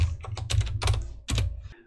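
Fast typing on a computer keyboard while writing Unity code, a quick run of close, crisp key clicks with a short pause near the end.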